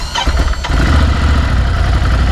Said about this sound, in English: It gives that dry wheeze that Ducati monsters give before it starts.